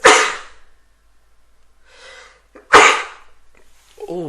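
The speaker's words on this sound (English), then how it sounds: "Oh my, big sneeze." Two big, forceful human sneezes, close and loud, separated by a quiet intake of breath, each a sharp explosive burst trailing off quickly, followed by a short vocal sound.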